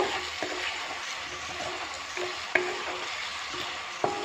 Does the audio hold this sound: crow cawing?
no